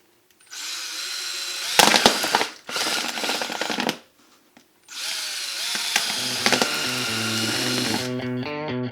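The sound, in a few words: drill bit drilling holes through a plastic container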